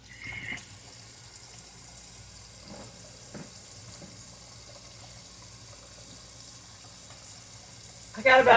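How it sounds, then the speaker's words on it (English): Glass canning jars are washed under a running faucet at a kitchen sink, with a steady rushing gush of water broken by a few faint clinks and knocks. "23 more jars to wash"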